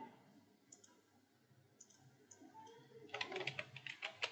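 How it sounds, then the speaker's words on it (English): Computer keyboard typing while filling in a WordPress page template: a quiet stretch of faint clicks, then a brisk, close burst of rapid keystrokes over the last second or so. "So here you can type anything you want"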